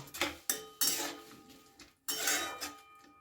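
Broken bori and sugar stirred into a bottle gourd and milk curry, a spoon scraping and knocking against the pot in several loud bursts separated by short pauses, close with no talking.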